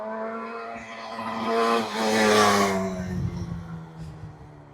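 A restored old motorcycle, left sitting for 52 years, runs on a test ride, its engine droning loud and close, swelling as it revs and then easing off.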